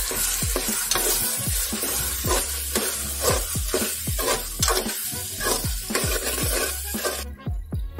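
Goat liver masala sautéing with turmeric, coriander powder and garam masala, a loud steady sizzle broken by regular rhythmic scrapes of a spoon stirring through the pan, close and continuous, with no talking.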